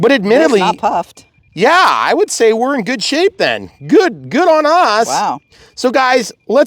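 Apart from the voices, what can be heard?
No everyday noise stands out behind the speech.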